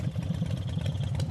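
A motorcycle engine chugs steadily at close range with a rhythmic low throb as the bike pulls away down a deserted road at night, running alone without any voices.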